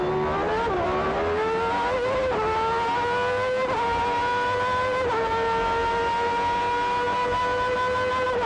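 A race car on a circuit, driven by a racing student, holds a loud, close engine note that climbs and then jumps sharply at several points as the driver downshifts, with steady mechanical whine between the shifts.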